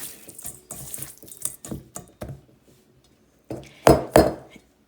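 Seasoned chicken pieces mixed in a bowl, with clinking and scraping of utensil against the bowl in uneven bursts, a short pause, then a couple of louder clanks near the end.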